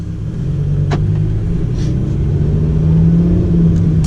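Lamborghini Huracan Performante pulling away, its engine a low, steady rumble heard close from inside the cabin, building gently without talk.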